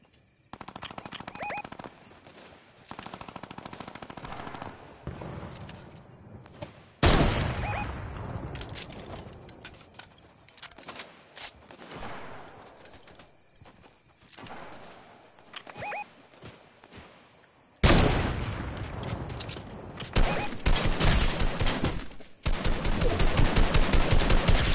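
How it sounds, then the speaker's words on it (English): Rapid minigun fire and other gunshots ring out in a Fortnite match, coming in long sustained bursts with gaps between them, some distant and some close and loud, and no talk over them. "I hear a minigun."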